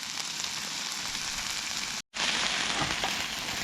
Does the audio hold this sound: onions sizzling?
yes